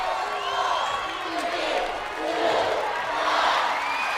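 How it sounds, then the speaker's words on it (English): A pro wrestling arena crowd chants a countdown of the time in unison, rising and falling in rhythmic waves, loud and reverberant and filling the whole space. "The crowd counts down the time"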